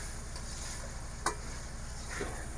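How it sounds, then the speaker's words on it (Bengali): Home-caught wild fish and spices sauté in a pan for a Bengali taro-leaf dish, giving a steady close sizzle with one brief clack of a utensil, and no talking. "মশলা আর মাছ একসাথে আমি ভালোভাবে কষিয়ে নিলাম"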